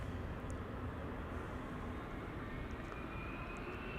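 KLM Boeing 777-300 bound for Willemstad, Curaçao, spooling up its engines at Amsterdam Schiphol: a steady, dense broadband jet roar with low rumble, sustained and even throughout, no voices.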